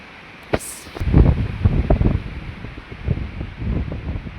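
Gusty wind buffets a phone microphone on a farm in rough, low rumbling bursts, with a sharp knock near the start and steady blustery noise throughout.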